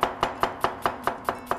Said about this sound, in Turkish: Şöyle soğanlarımızı minik minik ufak ufak doğrayalım.